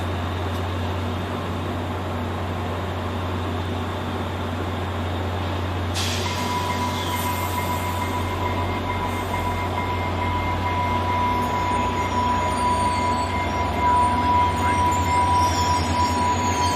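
Passenger train powered by an MP36PH-3C diesel locomotive pulls out of Salt Lake City, a steady low engine drone with wheel squeal and rail noise building slightly as it departs.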